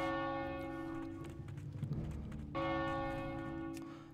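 A large church-style bell tolls in World of Warcraft, loud and sustained with a long ringing hum, struck twice with a brief murky dip between strikes as the second peal swells again.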